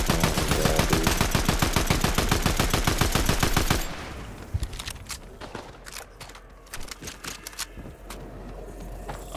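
Rapid automatic gunfire in a video game, aimed at a tree: a loud, steady burst of evenly spaced shots for several seconds, then scattered single shots and footsteps.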